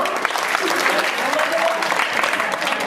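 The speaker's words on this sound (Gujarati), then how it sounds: "તાળીઓ પાડો ચલો" A crowd claps steadily for a few seconds, dense and fairly loud, with a voice speaking over the applause.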